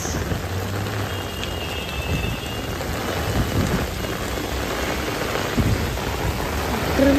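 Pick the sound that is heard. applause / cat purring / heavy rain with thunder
heavy rain with thunder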